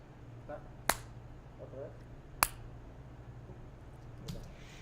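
A single sharp hand clap used as a sync marker for lining up audio and video, followed by a second crisp clap about a second and a half later, both loud transients over a steady low hum, with a fainter tap near the end.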